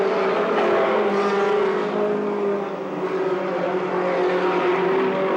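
Race cars roar continuously through a qualifying heat race for a B feature, a dense, loud engine drone sustained with slight swells as the pack laps by, no talk.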